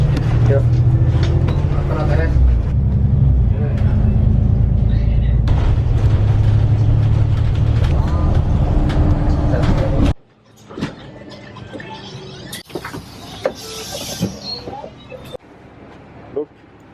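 A city bus ride gives a loud continuous engine rumble for about ten seconds, then it cuts to a quieter scene with scattered clunks and knocks while someone talks throughout.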